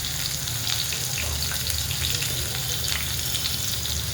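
Onion goes into hot oil already crackling with mustard seeds, cumin and a little sesame, producing a loud, continuous, close-up sizzle that holds steady without pause.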